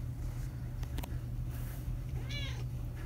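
A cat meows once at close range, a short rising call over a quiet low hum and faint room noise.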